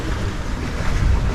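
Ocean waves washing against a sailboat under way, a continuous loud roar of water and surf mixed with heavy wind buffeting the microphone.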